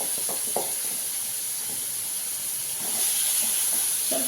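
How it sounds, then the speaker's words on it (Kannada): Paneer fries in hot oil with a steady, soft hiss and sizzle that runs throughout and grows slightly louder toward the end, with no talking. "ಈಗ ಇದು ಪನ್ನೀರನ್ನು ಸ್ವಲ್ಪ ಎಣ್ಣೆಗೆ ಹಾಕಿ ಫ್ರೈ ಮಾಡ್ಕೋಬೇಕು"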